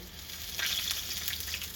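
Steady hissing sizzle of fish frying in plenty of hot oil, continuous and fairly quiet, with faint crackles and no voices.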